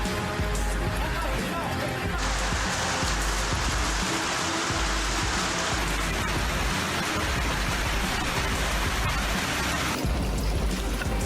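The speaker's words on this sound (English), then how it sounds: "this sudden hailstorm lasted about 10 to 15 minutes and fell alongside heavy showers" Heavy rain and hail pour down in a dense, unbroken hiss, with pelting impacts on surfaces swelling and easing across the stretch, loud and close throughout.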